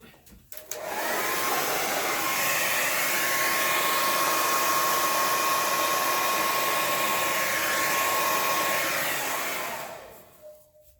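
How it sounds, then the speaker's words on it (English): A hair dryer blows steadily at close range for about ten seconds, a loud continuous whoosh with a faint whine, then switches off. "I think I'm going to use the blow dryer right there again too."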